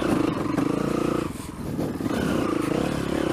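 A Yamaha motorcycle engine idles and runs steadily up close, with a dense, even putter and a brief dip in level partway through, after being kickstarted.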